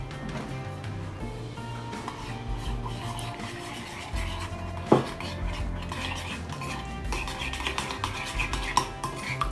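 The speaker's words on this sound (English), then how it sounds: "We're going to mix them very well now." Salad dressing with garlic being mixed in a bowl for a Moroccan beetroot salad, a spoon scraping and clinking steadily against the sides, with one sharper knock midway and brisker strokes toward the end.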